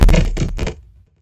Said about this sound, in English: I'm using a kick first. Sounds like this.